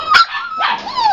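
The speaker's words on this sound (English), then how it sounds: "Harper and Diego, standard poodle puppies." Standard poodle puppies yip and bark in short high-pitched bursts, close and loud, one sharp yelp followed by a longer whining bark.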